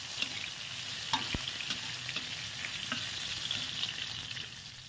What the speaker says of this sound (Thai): ใส่กระเทียมสับ เกลียวพอเหลืองใส่กุ้งแห้งลงไปผัด